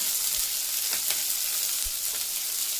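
Onion frying in a pan for Udupi-style idli sambar, a loud continuous hissing sizzle close up, with a few soft low thumps and no talking.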